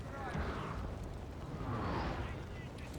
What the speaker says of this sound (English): I'm waiting actually for my cannons to finish off their cannons